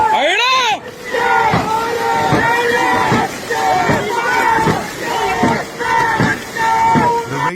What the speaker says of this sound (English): The crowd's energy is electrifying as the boats dash toward the finish line.